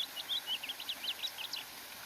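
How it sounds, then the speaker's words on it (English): Baby house finches give a rapid run of high, thin chirps and twitters, faint and somewhat distant over a steady background hiss, with no voices. "The bird songs that the finches sang"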